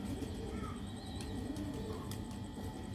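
Pigeons coo softly in a loft of pure Sialkoti Ali Wale pairs, the low murmuring steady throughout amid faint background chirps and ambient noise.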